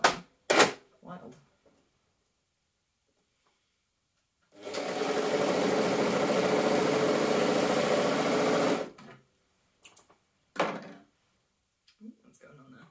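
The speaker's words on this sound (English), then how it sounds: "Now I'm on my overlocker." Overlocker sewing machine stitching stretch fabric for a dragon cosplay dress, running loud and steady for about four seconds with uneven tension; brief clicks and handling noises before and after.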